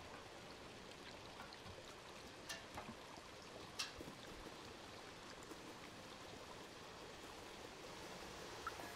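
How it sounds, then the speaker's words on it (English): Quiet, steady rushing of shimmering waterfalls and falling trash in the Stray video game ambience, a soft continuous wash with a few faint clinks, no voices. "This is a soothing sound of trash falling, shimmering waterfalls, no dangers."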